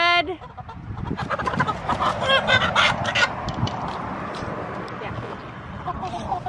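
Chickens cluck and squawk close by, with overlapping people talking over the birds.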